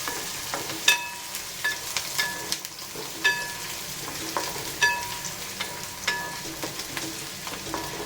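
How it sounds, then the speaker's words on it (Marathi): Chopped onion and curry leaves sauté in hot oil in a pan, a soft steady sizzle broken by repeated clinks and scrapes of a spoon stirring at an even rhythm. "कांदा आणि कढीपत्ता, आणि कांदा छान असा परतून घेऊया."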